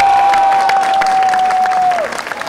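An audience applauds steadily at a televised Eid comedy talk show, the clapping dense and continuous, with a sustained tone running across it that drops away near the end.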